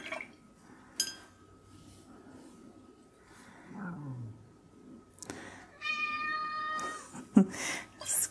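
A pet cat meows softly indoors in a home art room, one drawn-out low mew partway through, faint against quiet room noise and a few clicks and rustles.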